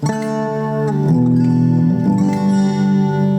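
Electric guitar played through a Zoom G2 Nu multi-effects patch with a light echo, sustained chords shifting over a few seconds, steady and fairly loud with no talking.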